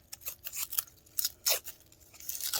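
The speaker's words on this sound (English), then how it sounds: "Just keep pulling on the tape." Tape being peeled and pulled off a sublimation shot glass, heard as a run of short, close crackly rips and tearing bursts with brief pauses between them.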